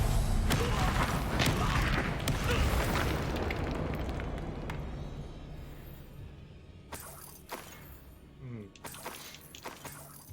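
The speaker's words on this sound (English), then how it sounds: "Flash explosion!" A spell explosion in Hogwarts Legacy hits with a loud, shattering burst that rumbles and slowly fades, followed by scattered crackling pops and a short whooshing flare.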